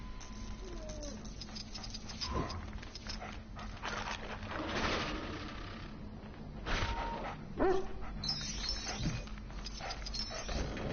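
Lockjaw, a large cartoon dog in a Lego Marvel superhero video game, gives a few soft barks and yips amid quiet game ambience and footsteps, with a brief voice in the background.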